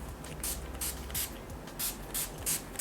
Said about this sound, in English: I'm going to spray my face using the NYX matte finish spray.